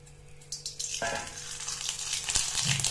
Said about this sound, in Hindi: ये जो रिफाइंड बचा हुआ था उसी में बनाएंगे हम मेथी और राई के दाने